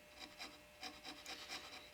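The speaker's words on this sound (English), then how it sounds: "I'm being very careful here as I file this to not nick anything up, just taking very small strokes" Aggressive rasp filing a Mauser rifle part in small, careful strokes, giving a quiet, close, dry rhythmic scraping of about seven rubbing passes with no talking.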